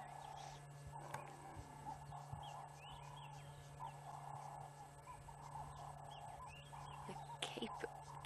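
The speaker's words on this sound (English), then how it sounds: "Turtle doves, or the ring-necked doves, are making such a noise" Ring-necked doves (turtle doves) calling repeatedly at dusk in the African bush, their cooing phrases steady in the background over a constant low engine hum and faint ambient noise.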